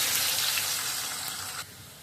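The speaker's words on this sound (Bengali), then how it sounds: "আলুগুলো ভাজা হয়ে যায়।" Potatoes fry in hot oil in a pan with a bay leaf and fenugreek seeds, giving a steady close sizzle that hisses loudly and then drops suddenly to a quieter crackle near the end.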